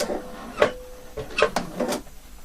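A sewing machine slowly stitches around the corner of a sleeve with a bias band, giving a few short mechanical whirring bursts and clicks between brief pauses, close up.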